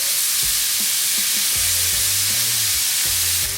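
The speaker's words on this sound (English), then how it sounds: "we're gonna go ahead and flip this New York strip" A New York strip steak sears in a hot skillet with a loud, steady hiss and sizzle. Low scraping and stirring knocks repeat through it, and no one speaks.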